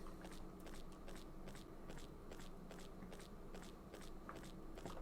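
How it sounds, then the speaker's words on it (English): Footsteps in an indie Godot game, a steady series of about a dozen soft crunchy steps at an even walking pace over a faint background hum. "And we do have footstep sounds."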